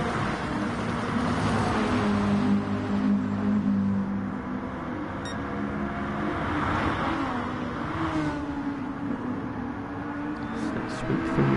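GT2 race cars in Gran Turismo Sport circulate at Lago Maggiore GP with a steady engine drone and shifting revs, heard under continuous commentary.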